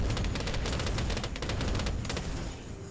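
Cannon and mortar fire from an artillery battery in Bloons TD 5, a dense, continuous barrage of rapid booms and crackling blasts, loud and unbroken.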